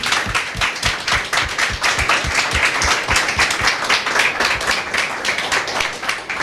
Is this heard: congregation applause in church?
yes